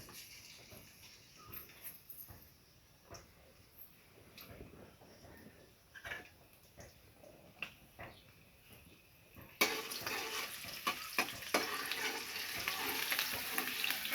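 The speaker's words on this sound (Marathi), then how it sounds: "फक्त आपण आता ह्याला लसणाची फोडणी देणार." Garlic tempering hits hot oil for a village-style stuffed brinjal curry: quiet clinks and stirring at first, then a sudden loud, steady sizzle that keeps crackling to the end, with no talk.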